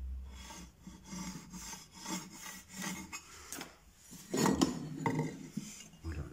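Floor plank being recut by hand during floorboard installation, irregular rasping, rubbing strokes of wood with a louder burst of scraping near the end, close but fairly quiet, no talking.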